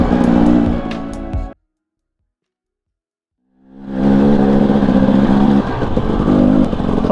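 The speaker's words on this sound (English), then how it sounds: "Two-stroke is a little cold." A cold two-stroke dirt bike engine on a trail runs loud and close with a harmonic rasp, cuts out abruptly, then swells back and keeps buzzing steadily.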